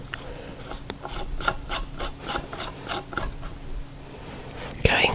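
A plastic sink drain nut screwed down by hand under a new bathroom vanity gives a run of rhythmic rasping, scraping turns, close and fairly loud, with a brief sharp knock near the end.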